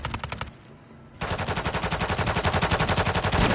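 Rapid automatic gunfire in Call of Duty Warzone Mobile, a brief burst, a short pause, then a long sustained string of loud, evenly spaced shots.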